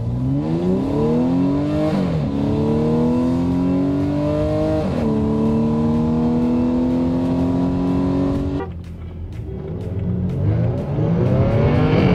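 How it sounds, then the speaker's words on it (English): A car engine revs hard during a launch-control start and climbs through several gear shifts in rising sweeps, then drops off abruptly as it pulls away. "That was with the launch control activated on his car"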